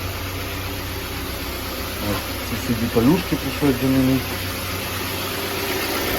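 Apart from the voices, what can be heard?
Volkswagen Tiguan engine running after cylinder block replacement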